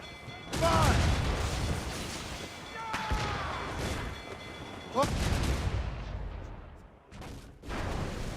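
Ship cannon fire during a naval battle in Assassin's Creed, a few heavy booms spaced through the scene amid shouted orders, creaking ship noise and battle clamour.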